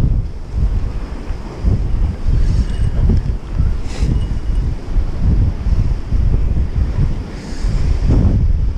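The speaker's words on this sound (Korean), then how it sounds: "바람에 밀려서 파도가." Sea waves pushed by strong wind break on the shore at Yamido, Gunsan, a loud continuous roar of surf with heavy wind buffeting the microphone and surges rising and falling.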